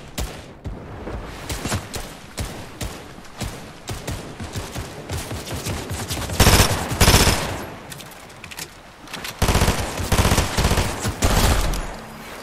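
Rapid bursts of automatic gunfire in the Fortnite video game, loud and near, firing in dense repeated volleys with brief gaps over several seconds.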